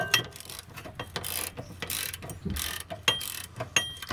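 A 3/4 inch socket ratchet threading a bolt by hand while a hitch receiver goes on, a run of close, sharp clicks in short bursts with brief pauses between them.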